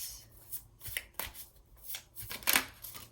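Tarot cards being shuffled and drawn by hand, a run of soft riffling flutters and crisp slaps at an uneven pace, close and fairly quiet, with one sharper burst of card noise near the end.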